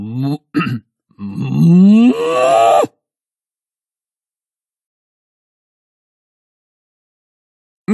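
Cows moo in an audiobook about cows living together in herds, a couple of short calls and then a longer, drawn-out low moo that stops abruptly, followed by silence.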